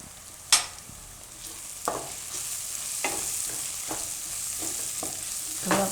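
Turmeric, coriander-cumin powder, red chili and salt fry in a pan of spinach and paneer bhurji, a low sizzle broken by several sharp scraping stirs of a spoon, close up with no talk.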